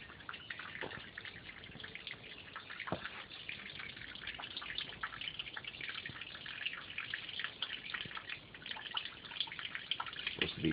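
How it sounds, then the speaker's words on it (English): Fresh water trickles and drips from a natural spring beside a picnic area in the North Carolina mountains, a continuous close splashing flow with scattered louder drips, heard alone without voices. "And here is the spring."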